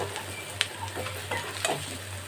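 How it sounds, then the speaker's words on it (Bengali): Onions frying in a pan, a soft steady sizzle with a couple of sharp clinks and scrapes from stirring, close by with no talk. "পেঁয়াজগুলো আমার ভাজা হয়ে এসেছে, আর একটু সামান্য নেড়ে নেব"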